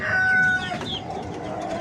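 Chickens in a coop above a black soldier fly maggot setup give a short burst of clucking and a crow-like call near the start, followed by quieter fowl chatter over low background noise.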